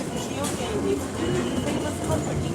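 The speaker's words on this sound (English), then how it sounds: "We are now riding the KEIKYU line." A Keikyu line train rides out from Yokohama, its steady rumble and rattle heard from inside the carriage, with voices talking over the noise.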